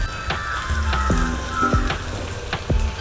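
Cluster beans (gokarakaya) tip into frying garlic paste with a close, crackling sizzle and a few light clatters of the pan.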